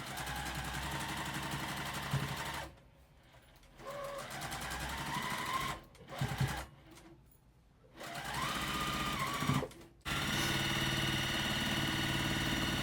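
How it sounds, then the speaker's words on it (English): A sewing machine stitches rows of a crazy house quilt block, running in steady motorized bursts broken by short pauses as the fabric is repositioned, close and fairly loud. "Now I'm going to flip the bottom row up and sew across the bottom"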